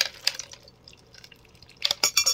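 Instant cold brew coffee poured over ice in a glass, with clinks and splashy bursts at the start and end and soft dripping in between, close and fairly quiet.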